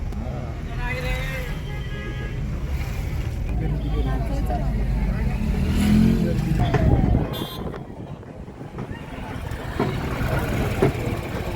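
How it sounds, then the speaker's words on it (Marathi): Road traffic rumbles under a busy crowd at the Kalbhairavnath temple fair in Sonari, engines droning steadily while people talk and chatter nearby. "तुमचा गाड्यांचा आवाज तुम्हाला येत असेल"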